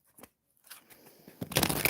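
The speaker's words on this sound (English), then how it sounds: "I really like this deck because the smaller cards are so much easier to shuffle." A deck of small tarot cards shuffled by hand, starting with soft scattered riffles and building to a louder, dense flutter of cards at the end, close to the listener.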